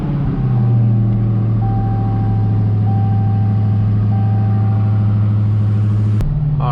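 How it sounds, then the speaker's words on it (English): A Mopar car's engine turns over and settles into a steady, rumbling idle close by, holding evenly for several seconds before a sharp click and a shift in tone. "start the car"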